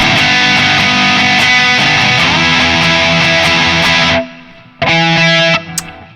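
Distorted guitar octaves chug in a steady repeated rhythm over a low bass root, stop briefly, then return for a short final burst.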